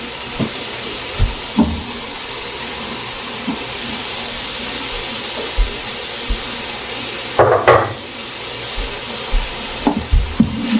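Green peppers and garlic are stirred into chili cooking in an Instant Pot Rio, with a steady steamy sizzle and a few sharp scrapes and clinks of a utensil against the pot, close and alone.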